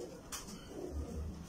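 Soft, low cooing from a pigeon of an old breed known as the dry-rivers pigeon, kept on a rooftop; a couple of faint, muffled coos come late over quiet background noise, with no talk.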